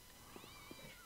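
Cats meowing in the video game Postal 2, several short faint meows scattered across a brief moment over a low, steady game background.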